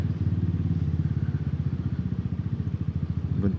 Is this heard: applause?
no